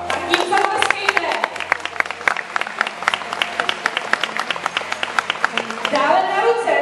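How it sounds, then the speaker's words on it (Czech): An audience claps steadily for several seconds, a dense patter of many hands, with voices rising near the end. "Tak tím zatleskejte."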